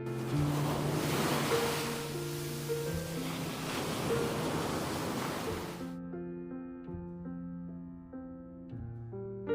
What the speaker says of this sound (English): waves rise and collapse directly onto the sand with sudden, concentrated force.